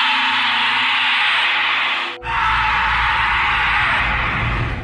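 A sustained scream echoes through the woods, sounding like a recording played over a speaker. It is loud and drawn out, breaks off briefly, then starts again identically against a noisy outdoor background.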